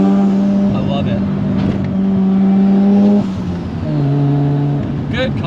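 A four-rotor rotary-engined Toyota Supra with an external dump drones with a steady, buzzy exhaust note, dropping in pitch briefly before climbing again, loud and close.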